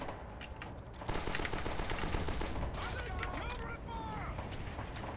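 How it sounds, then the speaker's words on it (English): Gunfire in the Red Orchestra 2 Heroes of the West mod, set in the Battle of the Bulge with an M1 Garand in use: repeated rifle and automatic-weapon bursts crackle continuously amid battle noise, with voices and speech mixed in. "Where am I getting shot from?"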